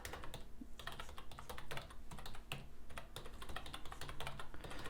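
Username and password being typed on a computer keyboard, a quick irregular run of close, soft key clicks throughout with no talking.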